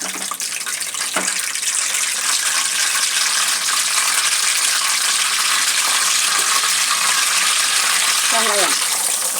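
Curry leaves drop into hot oil, and a dense, loud, steady sizzle and crackle fills the whole stretch while a voice speaks briefly underneath.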